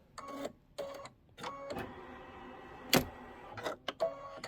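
A sewing or embroidery machine stitching the inner borders of a quilted Kimberbell Sweet Land of Liberty pillow, running in short start-stop bursts of rapid mechanical ticking with pauses, close and fairly quiet.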